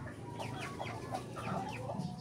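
Brooding hens sitting on a nest of about a dozen selected eggs cluck softly and repeatedly, close by, in a steady low murmur with no talking.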